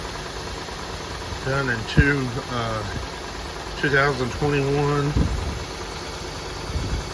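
A quarter-million-mile Honda Pilot idles after a cold start following a night of sitting, a steady low engine hum beneath someone talking close to the microphone.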